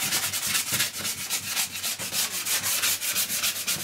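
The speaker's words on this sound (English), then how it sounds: "With sanding, you tend to pick out the areas that stick up, the natural areas of wear and tear, like the corners, the edges." Steady rhythmic abrasive scrubbing of sandpaper over an old oak monk's pew, close and continuous with regular back-and-forth strokes, no talking.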